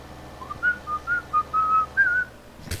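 Someone whistles a short tune of several clear, separate notes during a Farming Simulator 2015 multiplayer session, close and fairly quiet against a low background hum, ending with a brief rustle.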